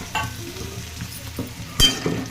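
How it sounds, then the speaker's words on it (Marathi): Curry leaves, chopped coriander and garlic fry in oil while being stirred, a close sizzle punctuated by a few scraping strokes and one louder clatter of the spoon against the pan, no speech. "मस्त भाजून घेऊया"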